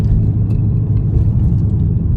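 A Dodge Challenger SRT 392 fitted with a new 3.70 differential accelerates. Its V8 gives a heavy, steady low rumble that stays close and loud throughout, with no voices.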